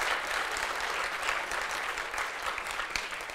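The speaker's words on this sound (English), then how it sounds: "give all these people an applause" At GUADEC, a tech conference, an audience gives steady, dense applause for first-time attendees, many hands clapping evenly from across the room.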